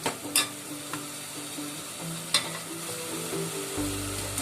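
Pulao ingredients with mint sizzle gently in oil in a pan, with a few soft clicks and scrapes of stirring over the quiet, steady frying.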